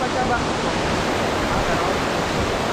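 Bolinao Falls 3 in Pangasinan pours with a dense, steady rushing roar of falling water, close and loud throughout the short stretch, with no distinct voices over it.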